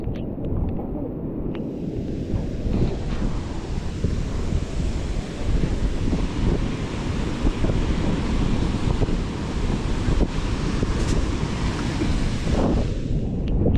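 Ocean surf rolls and crashes continuously at Wawa, Nasugbu, Batangas, a broad roar mixed with gusty wind buffeting the microphone.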